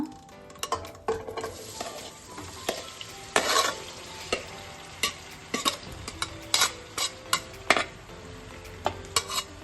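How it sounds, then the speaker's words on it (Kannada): Marinated soya chunks frying in oil in a pan, a low background sizzle punctuated by frequent sharp clinks and scrapes of a utensil stirring against the metal, irregular and close. "ಚೆನ್ನಾಗಿ ಸ್ವಲ್ಪ ಎಣ್ಣೆಯಲ್ಲೇ ಫ್ರೈ ಆಗಲಿ"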